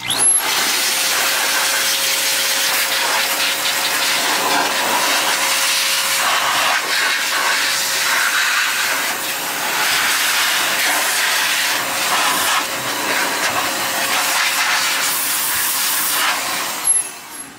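An XPower Airrow Pro A2 electric air blower, a handheld unit for clearing dust from computers, runs continuously at close range with a loud, steady rushing hiss of air that keeps going, only briefly dipping, with no talking.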